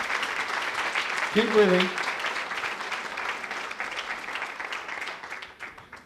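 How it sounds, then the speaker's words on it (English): A seated audience claps in a steady, moderate round of applause that trails off gradually, with a voice speaking briefly over it. "They applauded."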